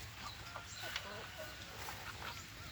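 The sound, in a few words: hen clucking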